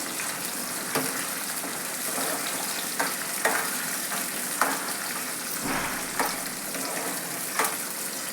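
Tomato and green chilli frying in a hot pan for an egg masala, a steady dense sizzle with a few sharp crackles and stirring clicks scattered through, fairly close, with no voices.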